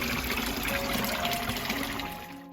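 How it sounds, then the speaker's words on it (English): Water flows and trickles steadily in the Alhambra gardens in Granada, a continuous close splashing stream with no voices over it. "walking through the gardens here afterwards, and you hear the sound of water everywhere"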